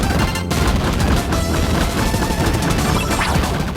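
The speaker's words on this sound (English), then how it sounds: "And then you get blowed up real good by that bomb that was obscured by a hunk of pipe." Bomberman Blitz on Nintendo DS erupts in loud, crunchy bomb blasts and crashing debris, dense and continuous at high volume with no speech.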